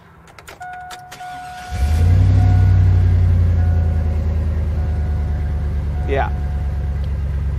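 An abandoned Chevrolet Silverado engine cranks and catches, then settles into a loud, steady running rumble close by, with a short spoken word before it starts.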